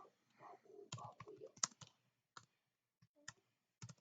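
Sparse, crisp key clicks from a computer keyboard as commands are typed, a quick cluster followed by scattered single taps, close and quiet with faint breathy noise early on.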